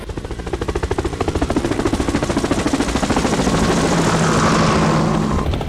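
Loud, close helicopter on a wild hog hunt in the southern U.S., with rapid rhythmic rotor chopping that stays steady throughout, engine whine rising slightly toward the end, no voices.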